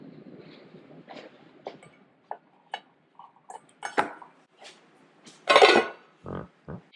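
A lid goes onto a bowl of proofing wheat dough in a home kitchen, giving a scattered series of close, sharp clinks and taps separated by quiet pauses, with no talking.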